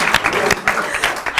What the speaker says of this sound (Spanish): Un aplauso para Hairbreak, ¿no?